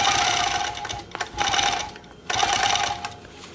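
Sewing machine quilting a Dear Jane quilt block, running in three loud close bursts of fast stitching separated by brief pauses.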